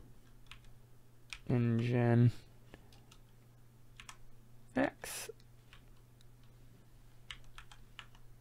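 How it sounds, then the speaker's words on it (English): Typing on a computer keyboard, done slowly while facing away from the monitor, gives soft, sparse key clicks scattered through the clip, with someone speaking briefly in two short bursts. "I'm typing facing away from my monitor, so my typing's a little slower"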